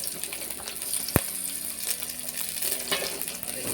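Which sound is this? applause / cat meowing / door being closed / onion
onion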